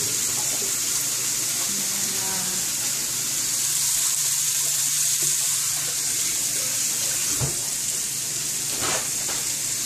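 Skirt steak pinwheels searing in a hot pan make a continuous close, hissing sizzle like running water, steady throughout, with a couple of brief knocks near the end and no talking.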